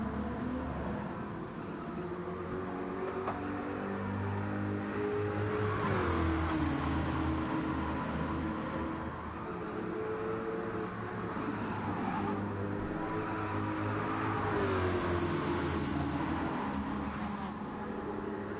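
Race cars in a Gran Turismo 7 Le Mans 24-hour race, including a hypercar, drone and whine steadily at close range, with engine pitch rising and falling as cars pass and shift through the whole stretch.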